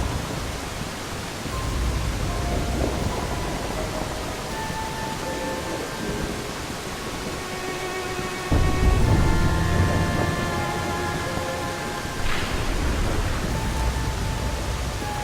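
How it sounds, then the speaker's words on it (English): Steady rain hiss with low rumbling thunder in a Dirge of Cerberus video game cutscene, a heavier thunder swell arriving midway, soft tonal music lines running over it and no talking. "this is the first time I've ever felt the rain on my skin"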